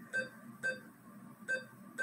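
Short electronic beeps from a neurofeedback brainwave game ring out four times in an uneven rhythm, clear and fairly quiet over a soft background hum.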